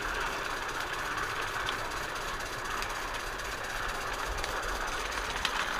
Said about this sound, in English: Here we are arriving at the terminus station beside the engine shed.